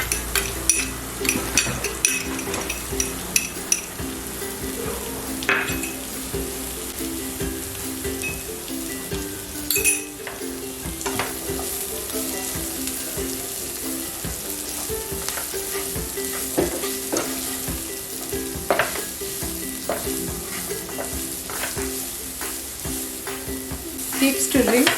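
Chopped onions and sweetcorn sizzle steadily in a pan over a high flame, with frequent scrapes and clinks of a spoon stirring them throughout, close and fairly loud without any talk.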